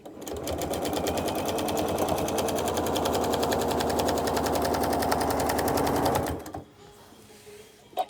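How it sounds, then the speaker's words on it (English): A sewing machine runs steadily as it stitches a quilt, its needle chattering in a fast, even rhythm for about six seconds before it stops abruptly and the room goes quiet. "Then I have my sewing machine set to create a tiny invisible knot at the beginning and end of each line of stitching."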